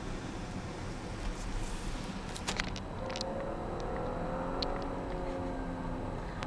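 Onboard sound of an Audi Q7 with a 3.0 V6 turbo engine accelerating, a steady broadband engine and road roar that builds slightly with a rising whine, heard from inside the cabin without speech.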